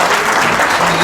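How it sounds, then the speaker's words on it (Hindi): Loud, close applause from students at a coaching academy results announcement in Bandanwara, a brief dense burst of clapping sustained at full volume. "इन सभी के लिए एक बार तालियां बजा दो आप जोरदार।"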